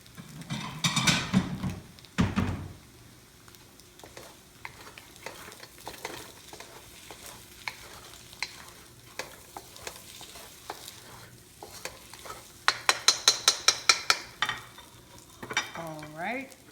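Eggs fry in oil in a pan for vegetable fried rice, with a steady sizzle throughout, broken by bursts of stirring and scraping and a run of quick utensil clacks near the end.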